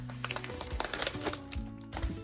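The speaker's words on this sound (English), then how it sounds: "I just put it in a plastic bag." Close, irregular crinkling and crackling of a thin resealable plastic bag being handled while packing an item for shipping, with several sharp little bursts.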